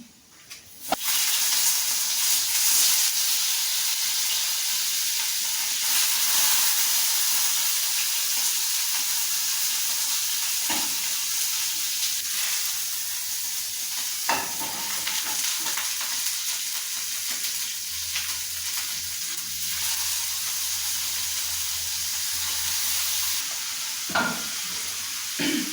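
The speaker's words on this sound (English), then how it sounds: "you have to fry the chicken separately" Chicken fries on its own in a pan, giving a continuous loud sizzle and crackle with occasional stirring scrapes and clinks throughout.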